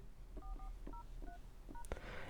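Touch-tone keypad beeps from a OnePlus 13 phone dialer as a code is entered: about seven short, evenly spaced dual-tone presses, quiet and close, with no voice over them.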